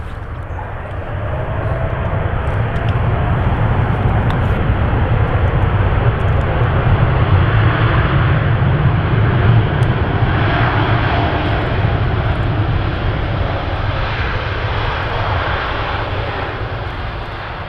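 Etihad airliner at Manchester Airport, a loud continuous jet engine rumble and roar rising quickly and holding steady throughout, with no voices.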